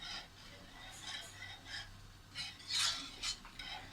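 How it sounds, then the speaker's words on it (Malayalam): Spoon stirring a jaggery mixture in a pot, for Pesaha appam and paal, gives repeated light scrapes and clinks against the pot under a steady low hum, with a voice faintly in the background. "നമ്മൾ നല്ലപോലെ മിക്സ് ചെയ്തെടുക്കണം."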